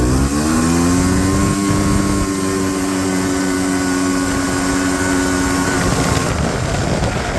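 Honda Odyssey FL350R ATV accelerating hard from a standstill, its loud engine note climbing steadily in pitch for several seconds before easing off near the end.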